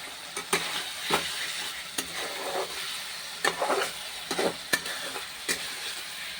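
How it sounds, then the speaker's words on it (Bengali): A spatula scrapes and stirs masala in a pan over a steady sizzle, with repeated scraping strokes at an uneven pace and no talking. "চলো এবার একটু ভালো করে কষিয়ে নিয়ে আমি"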